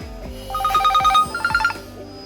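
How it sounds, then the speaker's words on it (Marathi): A mobile phone ringtone plays a bright electronic chiming melody in two short bursts over a low background hum. "अरे फोन आला, फोन आला।"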